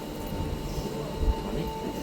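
A train runs on a New Year's Eve ride in Australia, giving a brief steady rumble with a faint thud partway through and a little background voice.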